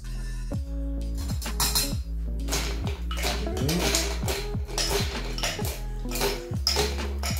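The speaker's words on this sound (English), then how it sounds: "I'm gonna fill our mixing glass with ice cubes." Ice cubes tumble into a cocktail mixing glass with a series of clinking, rattling knocks, heard under steady background music.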